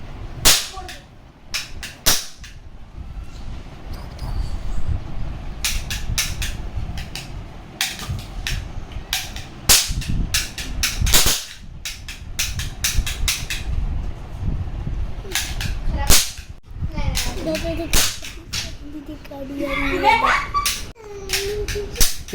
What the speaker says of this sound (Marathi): इथं बघा बंदूक फोडणं चालू आहेत.